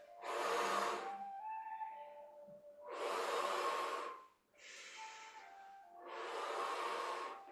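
Slow, deep breaths during a qigong session, four long airy inhales and exhales in an even rhythm, close and fairly loud with no talking.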